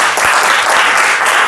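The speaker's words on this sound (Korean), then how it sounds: "우리 주님께 영광의 박수 드리겠습니다" A congregation at a Daejeon–Sejong mission association worship service breaks into loud, dense applause that holds steady, full and close, with no voices over it.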